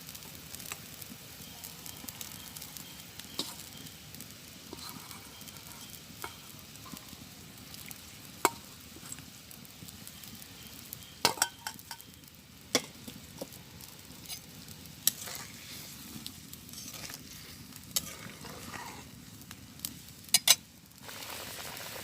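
Potatoes fry in a pan in a village kitchen, a soft, steady sizzle close by, with scattered sharp pops and spoon taps breaking through at intervals.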